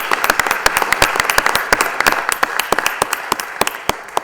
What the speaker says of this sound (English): I'd like to give a round of applause to our new deputy here, Jack Robinson.